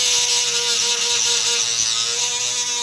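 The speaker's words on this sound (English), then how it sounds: "The Dremel." Dremel rotary tool grinding and porting the intake manifold of a Chevy Cruze 1.4L, a high steady whir running throughout without pause, fairly loud and close, with no talk.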